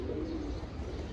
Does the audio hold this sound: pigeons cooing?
yes